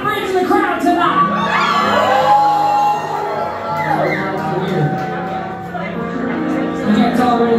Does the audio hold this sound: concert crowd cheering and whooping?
yes